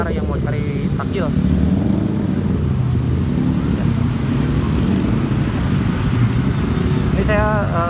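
Steady roadway noise on a busy Jalan Ciumbuleuit Atas street at evening rush, with cars and motorcycles rolling past continuously and a brief higher whine near the end, all beneath a constant wash of crowd chatter.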